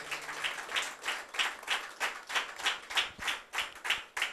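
A gathered congregation at a servants' conference claps in unison to praise God, a rhythmic run of about a dozen sharp, evenly spaced collective claps, moderately loud with a little room echo and no talking.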